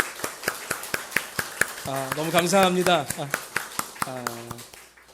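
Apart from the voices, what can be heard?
church congregation applause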